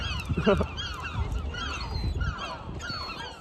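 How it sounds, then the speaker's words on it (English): Two seagulls call repeatedly nearby in the medieval town of Conwy, Wales, their harsh cries overlapping so they sound like many birds, with light talk and outdoor bustle behind. "Those two birds sound like 20 birds."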